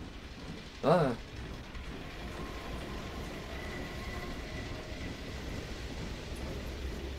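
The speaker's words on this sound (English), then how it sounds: "The train." A train rolls along steadily in Half-Life 2, a continuous mechanical rumble and rattle of rail cars, with a brief louder clank near the start and a short spoken exclamation.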